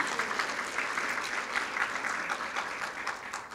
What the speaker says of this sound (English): Let's cheer for them again.